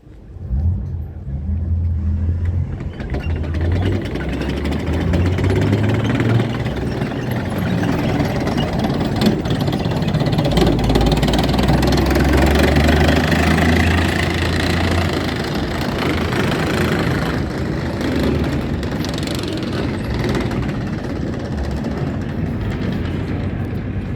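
The diesel engine of an AMX-30D armoured recovery vehicle runs at a military vehicle display, a loud continuous low rumble with throaty knocking that swells and rises as it moves, steady throughout.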